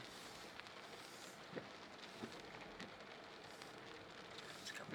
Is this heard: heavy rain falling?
yes